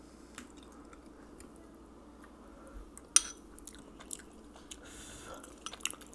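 Someone bites into a hot fish cake and chews it close up, with soft, wet squishing and faint crunchy chomps, one sharper bite partway through, over a quiet background.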